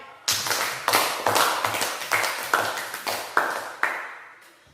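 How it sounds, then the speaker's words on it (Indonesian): A small group in a school counselling session claps for themselves, a series of sharp, close hand claps in a steady rhythm, each crisp strike standing out clearly with no talking over them. "Mari kita berikan tepuk tangan untuk diri kalian sendiri karena sudah bisa melakukan kegiatan ini dengan baik."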